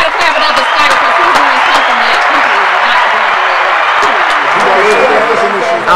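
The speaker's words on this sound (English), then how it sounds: "We got to clap it up." A live podcast audience breaks into loud, dense clapping and cheering that holds steady throughout, a continuous wash of many hands close by.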